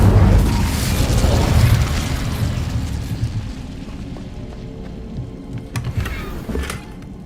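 A loud rumbling whoosh of the Incendio fire spell in the Hogwarts Legacy video game opens the clip, fading into a lower crackling roar with a few sharp game effect hits near the end.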